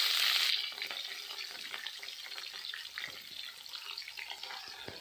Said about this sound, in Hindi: तेल गर्म हो गया, हम मछली डाल देते हैं। मछली को देखिए बढ़िया से भून लेंगे